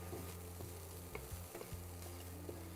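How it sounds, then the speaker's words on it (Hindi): Vegetables, carrot among them, sauté gently in a pan over a low flame: a steady soft sizzle with occasional clicks and scrapes of stirring, no talk. "हम लोग थोड़ा सा स्लो फ्लेम में इसको पका रहे हैं ताकि ये जले भी ना"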